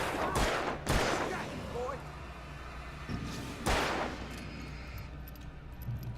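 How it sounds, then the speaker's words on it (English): Gunfire in the video game Alan Wake: a few sharp, heavy blasts spaced seconds apart, the loudest near the start and another midway, over a steady rumbling game ambience. "Oh, you're finally deciding to shoot."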